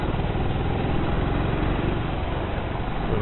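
A Hero Splendor motorcycle engine idles steadily in city traffic, a continuous close mid-pitched putter with no break and no voices.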